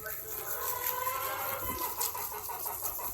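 Chickens cluck softly and steadily while being fed grain, a continuous low murmur of hen calls at moderate distance with no voices over it.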